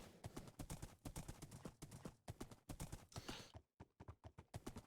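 Quick, evenly spaced hoofbeats from a video-game horse named Wilfred trot along in a rhythmic clip-clop on an SMP server, faint and steady, with a brief gap before the beats resume.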